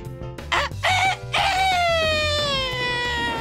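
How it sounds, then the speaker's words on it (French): A rooster crows loudly in a children's story sequence, several sharp bursts followed by a long drawn-out cry, set over background music with a deep rhythmic pulse. "le coq se mit à chanter à plein poumon"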